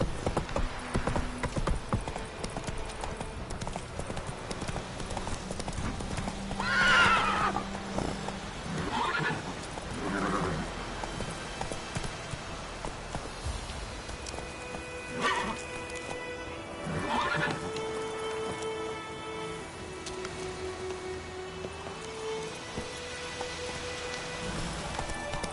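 Roach the horse in The Witcher 3 gallops with steady clip-clop hooves and lets out clear neighs and whinnies, all over constant rain pattering down; no one speaks.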